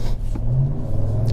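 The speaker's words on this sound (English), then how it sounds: "more V8 roar" A 5.7-liter HEMI V8 in a 2026 Ram 1500 pickup, a brief loud deep rumble rising as the engine revs, close and alone.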